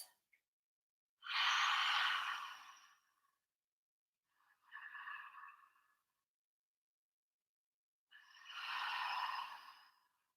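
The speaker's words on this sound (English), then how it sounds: "I like to call it the Darth Vader breath." Deep, guttural open-mouth pranayama breathing like Darth Vader's, three long airy breaths with hissing rasp, the middle one softer, separated by silence and heard close up.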